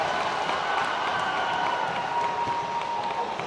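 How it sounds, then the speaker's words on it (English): A packed home crowd with a loud student section at a homecoming girls' high school basketball game produces a continuous roar of cheering and clapping, heard steady and fairly loud, with whistle-like tones running through the noise. "The home side packed, the student section is loud, so a lot of energy from them."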